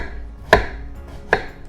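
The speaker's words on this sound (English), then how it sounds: "This guy is gonna get chopped" Two sharp knife chops through a banana flower on a cutting board, close and crisp, spaced under a second apart, with quiet between them.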